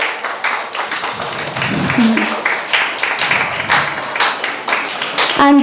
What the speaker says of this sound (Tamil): அவங்களுக்கு ஒரு பெரிய கைத்தட்டல் கொடுக்கணும்